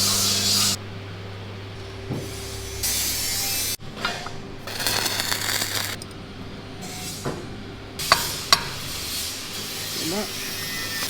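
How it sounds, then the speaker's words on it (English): Welding of mounts onto the armour of a Jagdpanther tank during a workshop restoration, with intermittent hissing, crackling bursts of a few seconds each separated by quieter gaps and occasional sharp metallic clicks. "As Jess welds these mounts in"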